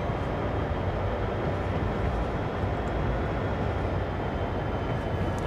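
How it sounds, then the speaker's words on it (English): Loaded coal train in the railway simulator Train Sim World, CSX heavy haul yard: a dense, loud, continuous low rumble of rolling stock that holds steady throughout, close and unbroken, with no voices. "That's the coal train that we're hooking up to."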